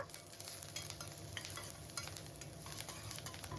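Curry leaves go into onions lightly frying in a pan, giving a continuous close sizzle with faint crackles throughout and no talking.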